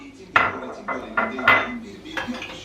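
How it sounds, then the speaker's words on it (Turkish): Dishes and cutlery clink and clatter as a dishwasher is unloaded at home, a series of close, bright knocks spaced irregularly over a few seconds, with no talking over them. "Böyle bayağı bir uzun sürüyor bulaşık makinesini boşaltmak"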